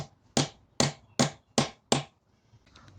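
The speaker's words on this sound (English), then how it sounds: "we're going to use a small set long extension with a 10mm socket to just help tap it into place and get it seated properly" Five sharp metallic taps at a steady rhythm as a 10mm socket on a long extension seats a seal into a 30-year-old VW MK1 gearbox, close and distinct, followed by quiet.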